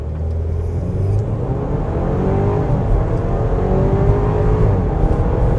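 A 2024 Audi Q5 Premium Plus pulls from a standstill to 60 mph at full throttle, its engine drone rising steadily in pitch under a constant low road rumble, close and loud without speech.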